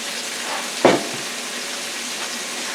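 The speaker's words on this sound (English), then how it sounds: "we're going to just stir fry these vegetables" Vegetables stir frying in olive oil for garlic steak with peppers and onions, a steady broadband sizzle throughout with one brief louder clatter of stirring near the start.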